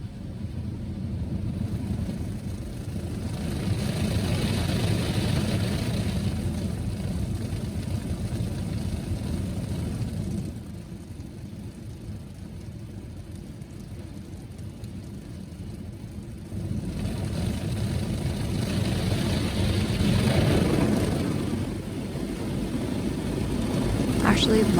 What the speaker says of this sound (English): I actually love this sound of an automatic car wash.